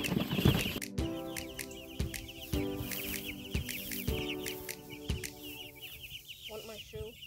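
Chickens in a farm chicken tractor cluck and squawk close by, with bursts of wing flapping and scuffling, while a person talks over them intermittently.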